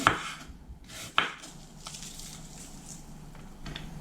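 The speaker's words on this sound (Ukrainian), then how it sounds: "Цибулю нарізаю напівкільцями." A knife slices an onion into half rings on a cutting board in a few sharp strikes, followed by quieter scraping and light knocks close up.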